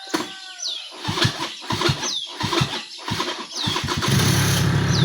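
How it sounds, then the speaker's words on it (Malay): A Suzuki V100 motorcycle being started after long disuse, with a run of rhythmic cranking pulses repeating several times before the engine catches and settles into a steady, loud idle. "Motor pun lama tak start ni."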